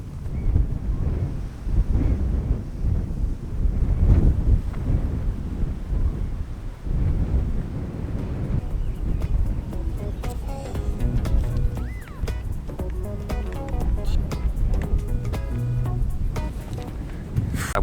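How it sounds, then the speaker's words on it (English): Strong wind blows steadily across an outdoors shoreline where terns and sand martins fly, a constant roaring buffet on the microphone. Faint bird calls emerge in the second half. "And with that strong wind on my back,"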